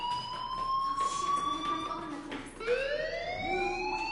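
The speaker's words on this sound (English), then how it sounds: "do you hear that fire alarm? That means you should be outside." A school fire alarm in the video game Life Is Strange sounds as steady, rising electronic siren-like tones that hold throughout at moderate volume, with a brief dip midway before the wail returns, and faint low murmuring underneath.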